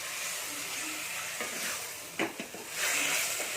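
Chicken going into a hot pan with daliya and frying, a soft steady sizzle and hiss, briefly broken by a couple of close clatters before a louder burst of sizzling, with no voices.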